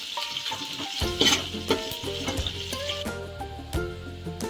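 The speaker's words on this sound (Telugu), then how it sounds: "ఉల్లిపాయ మంచి కలర్ వచ్చేంత వరకు వేయించుకుందామండి. ఇవన్నీ బాగా వేగనిద్దామండి." Onions fry in hot oil for a vegetable pulao, giving a steady close sizzle broken by clattering stirs of a spoon against the pan, with no talk.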